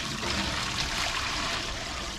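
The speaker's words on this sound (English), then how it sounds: "So I'm gonna put in a gallon of water right now." About a gallon of hot tap water pours into a water bath canner for canning coleslaw, a close, steady splashing rush that fills the whole short moment without talk.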